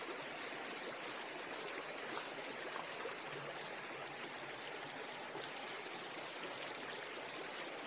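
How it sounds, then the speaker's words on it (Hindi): Spring water in Ranikhet, Uttarakhand, flows and splashes steadily down a hillside stream in a continuous broadband rush with no talk, fairly close and even throughout. "छोए फूटते हैं, सारा पानी इकट्ठा होता है, और 12 महीने 24 घंटे पानी ऐसे ही आता रहता है, शुद्ध पानी"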